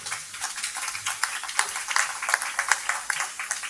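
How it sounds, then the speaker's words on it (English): Applause at a WBC convention: many hands clapping in a steady, moderately loud ripple from a small audience, with no voices over it. "Please, a big round of applause to Michael Moore."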